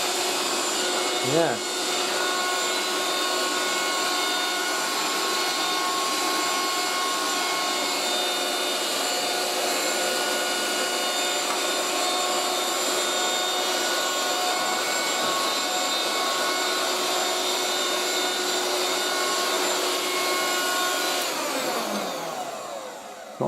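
Handheld 1980s Moulinex Aspirateur No1 237/320 vacuum cleaner running in a steady, close, high-pitched motor whine for a long stretch, then spinning down at the end, with one brief word spoken near the start.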